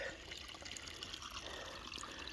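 A small stream flows beside a hiking trail on the way to Tinker Cliff in Virginia, giving a steady, soft trickle of water throughout, faint and continuous with no voices.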